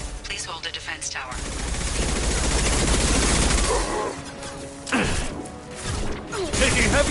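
Heavy gunfire in the Mass Effect 2 video game: rapid bursts of automatic fire and crashing impacts fill the scene, with a lull and then renewed loud volleys and thuds near the end.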